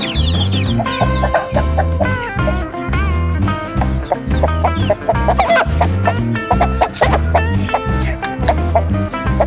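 Fighting roosters raised for Sankranti cockfights cluck repeatedly and loudly up close, a busy overlapping chorus of clucks and short calls with steady rhythmic bursts throughout.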